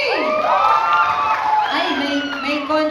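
A crowd at a Philippine contest event cheers, whoops and shouts for a contestant, with excited children's voices in the mix. The noisy burst is close and sustained across the whole stretch, rising and falling in waves.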